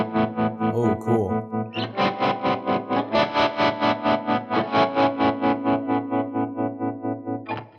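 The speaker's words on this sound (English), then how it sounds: "You can dial up a tremolo to get really choppy" Electric guitar run through a tremolo pedal with depth and rate turned up, giving a steady, fast choppy pulsing in the sustained distorted notes, loud and up close with no voices.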